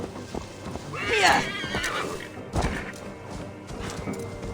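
A horse in the video game Assassin's Creed Valhalla neighs in a long, loud whinny, then thuds and clops follow, with a second shorter cry later over steady game background noise.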